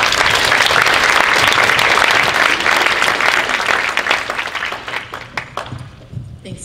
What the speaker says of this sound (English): Let's give Alamir a round of applause, please.